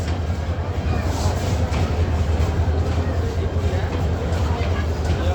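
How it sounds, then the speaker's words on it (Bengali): A crowded Titas passenger train rolls under a bridge near a Dhaka rail station, a loud, steady low rumble of wheels and carriages that stays constant, with people's voices mixed into the din. "এই ট্রেনের পুরোটা একদম যাত্রী দিয়ে ভরা।"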